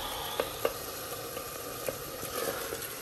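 Minced keema with tomatoes frying gently in oil, a soft steady sizzle with a few faint pops and light stirring, fairly quiet and close.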